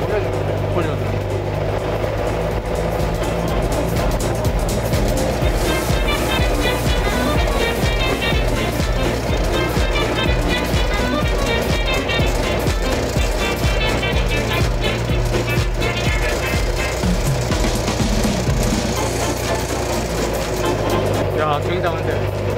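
A car engine drones steadily and rises as it accelerates, loud and close throughout, with road and mechanical noise filling the cabin.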